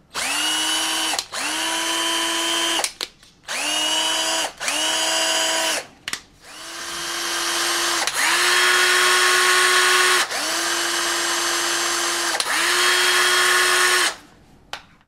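Titanium 12V cordless drill/screwdriver running at speed 2, loud and close: four short whining bursts, then a longer run that ramps up and holds a steady high-pitched motor whine before stopping.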